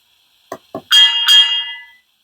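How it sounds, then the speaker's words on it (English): A Rapido fireless model locomotive gives a small double bell, two quick ringing chimes following a couple of soft clicks, ending in a brief fading ring. "We'll just have a little double bell before we set off."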